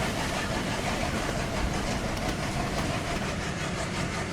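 Locomotive No. 6602 of the Kapotaksha Express, which had caught fire, moves along the line to couple with the train near a level crossing. A continuous loud rumble carries faint rhythmic clickety-clack from the rails, with no voices.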